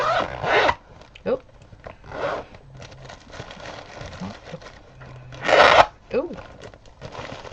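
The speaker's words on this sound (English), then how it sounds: "Caught the project in the zipper and then I tried to unzip the zipper and it, yeah, made that funny noise." A zipper snagging on a fabric needlework project as it is unzipped, giving a few short, harsh rasping bursts close by, mixed with brief exclamations and background sounds.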